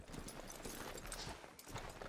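Horse hooves clip-clopping in Red Dead Redemption 2, a quiet, fairly steady run of soft hoofbeats with faint background ambience and no talking.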